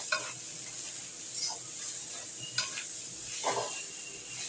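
Garlic cloves being stirred and fried in a pan for Bihari chicken, a soft steady sizzle with a few scraping stirs of the spoon, fairly quiet and close, with no talking.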